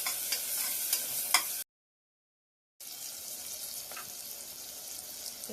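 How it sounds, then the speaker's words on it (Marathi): Rasam rice with sambar masala and tamarind gets stirred in a pot, soft scraping and a faint wet sizzle that drop out into a brief silent gap before resuming quietly. "छान असं मिक्स करून घ्यायचं आहे."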